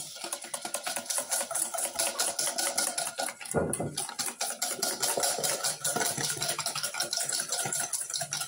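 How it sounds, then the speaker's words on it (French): An egg and sugar whisked together in a mixing bowl: fast, steady, rhythmic strokes clattering against the bowl, continuing throughout with one brief break partway through. "dans mon saladier, je vais mettre mon œuf avec mon sucre que je vais bien fouetter"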